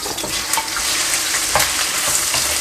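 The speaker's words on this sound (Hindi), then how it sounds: "और प्राउन को मैं अच्छी तरह फ्राई कर लूँगा।" Prawns frying in hot oil in a wok for pad thai, giving a steady, close sizzle with brief crackling bursts and stirring scrapes, with no talk.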